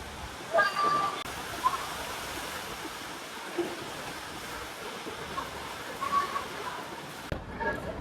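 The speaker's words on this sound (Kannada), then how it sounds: "ಮಳೆ ನೋಡಿ." Heavy rain pours down at a station as a dense, steady roar of falling water that holds throughout, with a few faint voices and small knocks surfacing briefly beneath the downpour.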